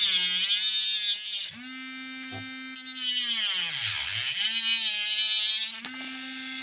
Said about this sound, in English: I don't know if I like this little Dremel because of this reason